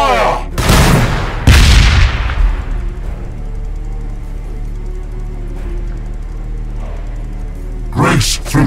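Blood Angels open fire against an Ork horde in Warhammer 40K: two heavy booming shots up front, a rumbling tail, then another burst near the end, with loud low-end impact.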